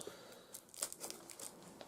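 Shrink wrap being torn off a sealed Lotus 1-2-3 software box: quiet, close crinkling and brief tearing rustles in short bursts, with no one talking.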